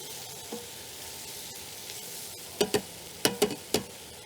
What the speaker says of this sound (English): Now we want to cook it with the mushrooms in there for about 3 to 4 minutes.